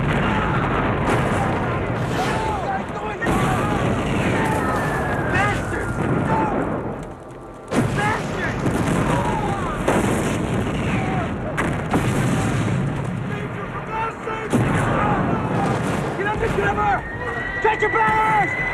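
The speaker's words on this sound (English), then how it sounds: "Our guys are bombing us!" Bombing and artillery in the war film Lost Battalion: continuous loud booms, blasts and crackling fire roar close by, while panicked voices shout over the barrage.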